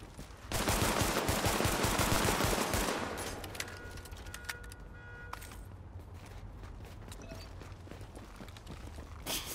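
Rapid gunfire from The Division rattles loud and close in a dense burst of fast shots, then thins into scattered, fainter pops over a low background rumble.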